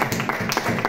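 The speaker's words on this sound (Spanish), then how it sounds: "Da un aplauso, gloria al Señor." Church congregation clapping in applause after a call to praise God, a brief burst of several rhythmic hand claps, fairly close and moderately loud.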